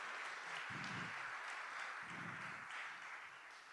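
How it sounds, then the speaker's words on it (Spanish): A church congregation gives loud sustained applause for God during a worship service, with dense clapping running throughout and a few low thuds beneath. "Démosle palmas fuertes a Él."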